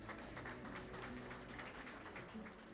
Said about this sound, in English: A big round of applause for Mrs.